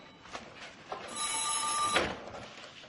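An old telephone bell rings in one sustained, bright trill lasting about a second, preceded by a few soft clicks, in a quiet indoor setting with no talking.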